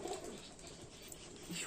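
A male pigeon at a pigeon sale gives soft, low coos, faint under steady background noise.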